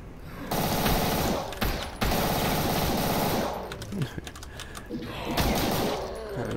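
Rapid pistol fire from Brutal DOOM rattles in dense, loud bursts with brief pauses between volleys, mixed with game effects and clatter as enemies go down.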